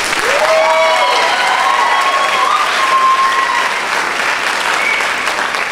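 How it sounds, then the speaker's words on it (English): Loud, sustained audience applause for an all-female parliamentary debate team at a college speech night, dense clapping with a few whoops and cheers rising over it. "Please give them a round of applause."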